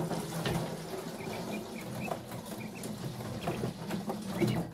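Water poured out for a line of waiting animals, a steady close splashing and trickling patter with small clinks and rustles, no talking.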